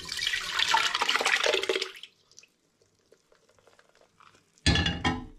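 Macerated rhubarb liquid for an elderflower and rhubarb sparkling wine is poured out in a steady splashing stream for about two seconds, followed by near silence and then a short, loud burst of splashing at the end.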